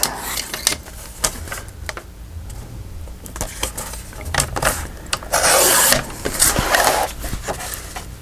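Paper is cut to size for a file folder folio, producing close, crisp cutting and rustling sounds in uneven bursts, with one louder, sustained scrape partway through.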